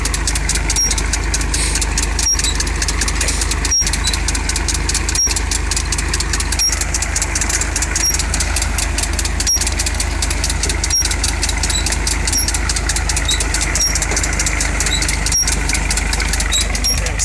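A tractor engine idles steadily during maize sowing in May 2017, a loud, constant mechanical drone with an even throb and periodic faint clicks, heard close with no talking.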